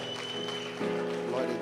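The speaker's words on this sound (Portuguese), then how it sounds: "dá uma salva de palmas para o Senhor" Church congregation applauding during a Portuguese-language worship service, a steady wash of clapping mixed with voices and sustained musical tones, growing slightly louder partway through.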